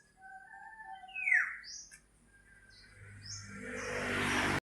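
A bird calls outdoors in a rural area with mango trees: a few clear chirps and a sharp squawk, then a rising rush of passing traffic noise drowns the scene.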